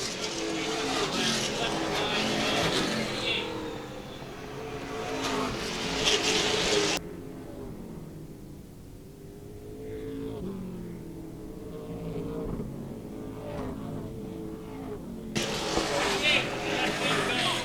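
Race cars in a feature event at Star Speedway roar past in waves, loud engine noise swelling and fading as packs go by, with a quieter stretch between passes and a commentator talking over the action.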